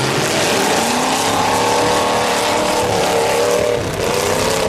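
Heavy pickup truck engines roaring and revving close by at a demolition derby, a loud continuous motor drone with shifting pitch.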